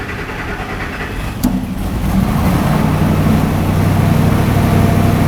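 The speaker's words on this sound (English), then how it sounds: "We'll do it one more time, and then we'll crank it and start it." A 2011-2016 Ford F-350 6.2L V8 cranks briefly, catches with a sharp burst and settles into a loud, steady, slightly uneven idle close by after a fuel pump replacement.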